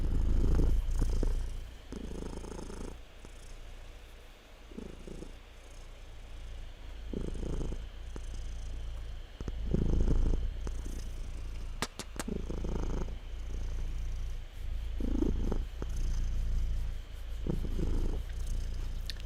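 Close, soft cat purring in a steady rhythmic cycle of low rumbling pulses, repeating about every two to three seconds with no talking.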